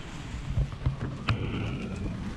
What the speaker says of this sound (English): I don't know if you can hear that wind outside.